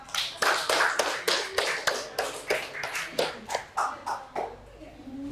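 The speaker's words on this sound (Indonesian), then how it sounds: "tepuk tangan untuk kita semua" A high school class claps in a fairly regular rhythm, about a dozen distinct claps at close range, slowing and fading toward the end.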